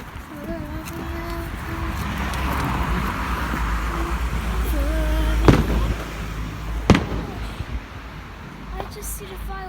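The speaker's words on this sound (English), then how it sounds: "oh my gosh, there's a firework there." Bonfire night fireworks at night, a few sharp distant bangs cracking over a steady outdoor background, with people talking throughout.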